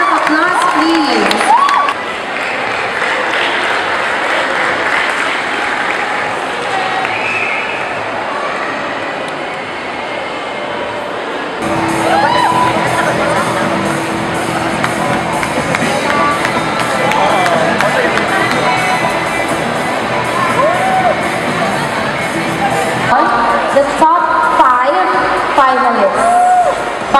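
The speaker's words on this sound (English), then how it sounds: "Let's give her a warm round of applause, please." An award ceremony crowd claps and cheers warmly for a People's Choice Award winner, a loud, sustained wash of applause with cheers and whistles and voices mixed in.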